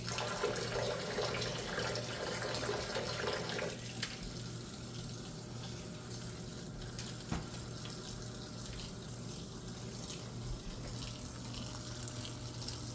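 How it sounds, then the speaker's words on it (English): Hot water runs from a faucet into a sink to soak luffa sponges, a strong steady rush for about four seconds that drops to a softer, continuous trickle and slosh as the basin fills. "we are going to put them in our sink in hot water"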